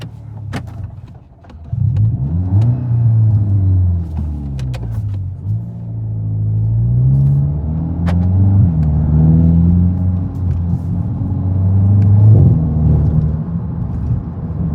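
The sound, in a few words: 2024 VW MK8 GTI engine revving with muffler delete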